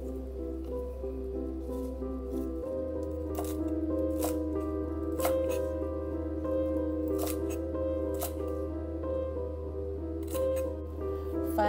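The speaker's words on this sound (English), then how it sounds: "Cut green onion. Cut our parsley." Green onion and parsley are chopped with a knife on a board, producing crisp, evenly spaced cuts that stand out over soft, steady background music.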